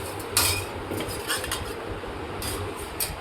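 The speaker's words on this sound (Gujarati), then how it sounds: "આપણે મોટો ચમચો નાખી દીધો આની અંદર" A large metal spoon clatters inside a cooking pot in a home kitchen, producing close, bright clinks and scrapes in several short bursts over a low background hum.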